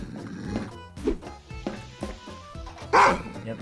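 A dog barks in a Garry's Mod game, several loud sharp barks at irregular intervals, the last the strongest, over busy game noise with no clear talk.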